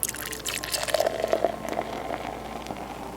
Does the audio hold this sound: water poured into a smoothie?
yes